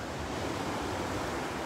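Ocean surf breaks on the beach at Long Beach, New York, a loud, steady wash of rushing water that fills the whole moment with no pause.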